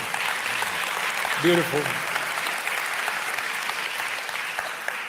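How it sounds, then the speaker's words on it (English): Steady applause at a live discussion about arguments for God, a diffuse wash of clapping throughout, with a single short spoken remark near the middle. "We should clap for that, I think."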